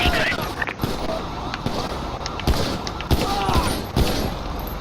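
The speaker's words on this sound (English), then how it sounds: "shots fired at my location" A burst of rapid gunshots in GTA V with the LSPDFR police mod: several sharp, loud cracks spaced through the scene, with a voice talking over the fire.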